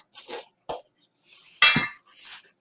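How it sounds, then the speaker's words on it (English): Butter knife scraping around the edges of a baking pan holding pumpkin bread, a few short separate metallic scrapes and clinks with pauses between, one louder stroke in the middle, close up and alone. "You need to loosen them from the pan by running a butter knife around the edges."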